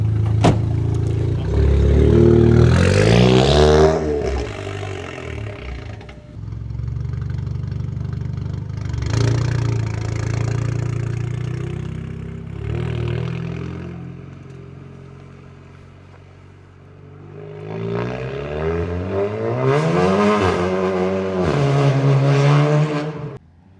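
An Audi RS3 2.0 CJX LMS race car engine revs loudly on a test run, close and alone, rising and falling through repeated throttle blips with a brief quieter dip before it climbs again.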